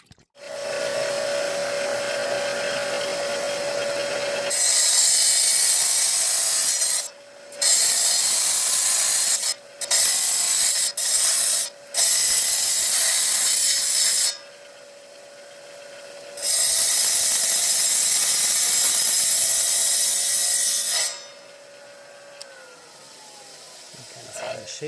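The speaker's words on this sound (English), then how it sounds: "we will try cutting the slice up, because these saws work for kind of trimming as well" A rock saw cuts and trims a stone slice in several loud bursts of high, grinding whine separated by quieter stretches where the motor hums on its own.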